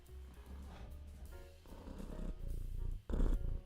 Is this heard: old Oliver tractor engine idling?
no